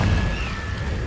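A Confringo explosive spell blasts in Hogwarts Legacy, a loud, dense low boom that fills the whole moment with rumbling energy and no speech over it.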